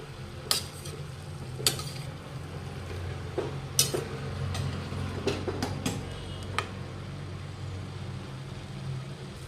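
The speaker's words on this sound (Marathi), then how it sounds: "पालक मिक्स करून घेऊया।" Spinach being stirred in a pan while cooking a spinach and potato dry curry, with sporadic sharp taps and scrapes of a spoon against the metal over a low, steady background hum.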